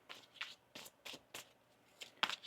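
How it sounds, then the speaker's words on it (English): A deck of tarot cards is shuffled by hand in several quick, soft riffling bursts separated by short pauses, close and quiet, with no talking. "One more shuffle here."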